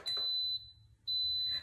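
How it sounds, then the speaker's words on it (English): Two long, piercing electronic beeps from an electric pressure cooker as its settings are selected, each lasting about half a second with a short gap between, close and clear. "There, turn the knob. A lot of beeps."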